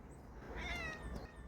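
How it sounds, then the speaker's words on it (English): Single close meow from a house cat, rising and drawn out for about half a second, faint against quiet room ambience. "The cat scared the crap out of me."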